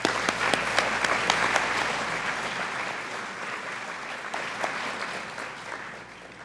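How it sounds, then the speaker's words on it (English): Sustained applause from a ceremony audience honoring nursing students' families and friends at a college white coat ceremony, loud at first with sharp individual claps, then gradually easing off while continuing to the end. "let's give them applause as well"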